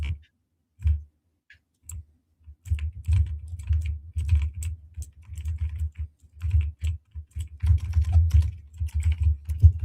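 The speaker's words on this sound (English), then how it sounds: "don't you hear my keyboard? Like, I do hear your keyboard." Someone types on a computer keyboard in quick irregular bursts of close clicks and taps, pausing briefly between flurries.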